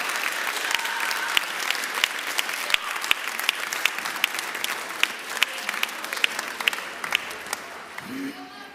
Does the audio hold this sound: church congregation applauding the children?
yes